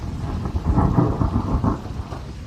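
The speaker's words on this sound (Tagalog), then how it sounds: "ang lakas naman ng ulan. May bagyo na naman ba?" Heavy rain pours steadily while thunder rumbles close and loud through a storm, a dense continuous wash with deep rolling booms and no voices.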